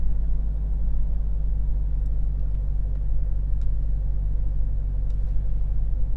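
A 2016 Chrysler 200 sits running after starting: a steady, close low engine rumble with a smooth, even idle hum throughout and no voices.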